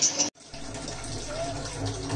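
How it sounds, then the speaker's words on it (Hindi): Tap water running over dishes being washed at a village home sink, a steady close splashing rush after a brief clatter and a short pause at the start. "काम चल रहा है बर्तन धोने का"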